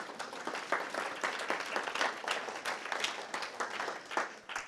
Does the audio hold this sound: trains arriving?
no